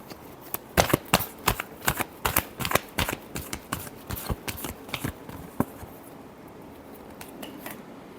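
Tarot cards being shuffled by hand, a close run of crisp riffling bursts in quick succession that thins out and fades into quiet after about six seconds.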